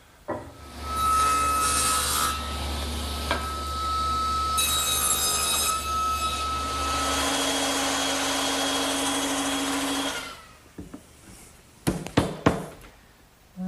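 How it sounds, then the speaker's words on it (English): A hand saw cuts a tenon on the end of wooden intermediate supports for a garden bench, with continuous rasping strokes for about ten seconds before stopping, followed by a few sharp knocks. "Now I need to cut a tenon on the end of those intermediate supports to fit into those"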